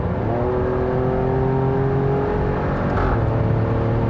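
An Alfa Romeo Stelvio Quadrifoglio engine holds a steady, droning rev with a sliding pitch, rising slightly near the end with a brief burst, loud and continuous throughout with no talk.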